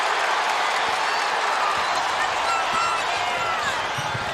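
A basketball arena crowd at a college game between Kansas State and West Virginia cheers in a dense, sustained roar, loud and even throughout, with faint commentary underneath.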